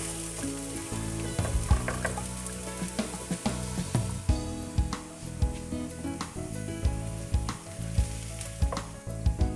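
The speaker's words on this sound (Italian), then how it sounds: "Adesso aggiungo le cipolle tritate, cipolla tritata. Faccio rosolare." Chopped onions browning in a hot pan for Sardinian panadinas, a loud, steady sizzle with clinks and scrapes of stirring throughout.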